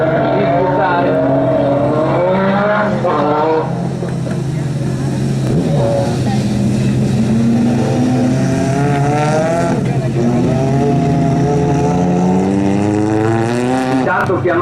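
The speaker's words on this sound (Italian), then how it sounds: "intanto Casalboni e Tomassini, eccoli qua sul traguardo per iniziare il quarto passaggio" Mitsubishi Colt rally cars race at an autocross at Vighizzolo d'Este, engines loudly revving and rising and falling in pitch throughout, while an announcer talks over the PA.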